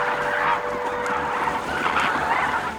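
A flock of flamingos calls in a noisy chorus, overlapping honking and gabbling cries that rise and fall steadily, moderately close with no talk.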